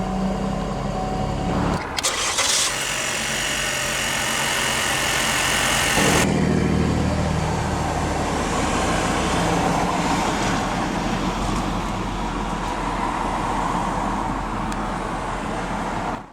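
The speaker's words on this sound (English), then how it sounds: "let's go ahead and start the engine." A 2022 GMC Terrain SLT AWD started with push-button ignition: a short starter whir, then the engine catches with a loud flare before settling into a steady, close idle.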